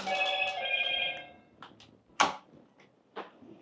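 A phone rings for an incoming message, a bright electronic ring for about a second and a half, then a few sharp clicks and knocks that follow.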